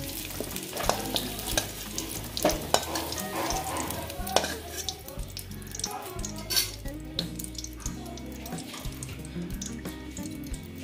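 Potatoes frying in hot oil for an egg curry, a steady dense sizzle with stirring clatter and scattered clinks throughout, close and fairly loud, no talk over it.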